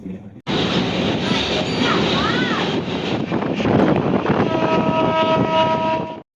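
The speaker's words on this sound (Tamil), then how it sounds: "கொள்ளிடம் ரிவர் பிரிட்ஜ் தான் நம்ம கிராஸ் பண்ணுறோம்" Loud, steady rumble and rattle of express train 16231 crossing the Kollidam river bridge at speed, with wind buffeting the microphone, metallic clatter, and a brief high whine near the end.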